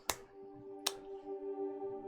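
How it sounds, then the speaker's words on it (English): Two sharp finger snaps about a second apart, close and crisp, over a faint steady background hum. "Can't snap my fingers today."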